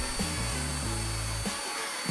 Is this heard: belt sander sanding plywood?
yes